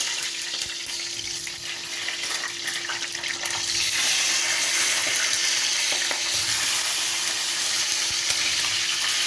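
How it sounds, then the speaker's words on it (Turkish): Charleston peppers fry in hot oil with a loud, continuous crackling sizzle that swells as they hit the pan and stays dense throughout, close by. "Şimdi efendim kızgın yağ, charleston biberi"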